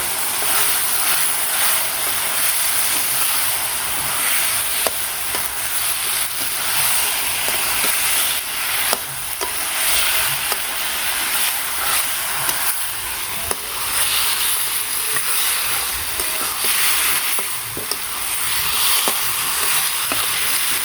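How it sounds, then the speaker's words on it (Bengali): Chicken meat is tipped into fried spiced masala in a village kitchen and sizzles steadily and loudly, with occasional crackles and stirring scrapes throughout and no talking. "মশলাটা কষানো শেষ, এখন মাংসটা ঢেলে দিই।"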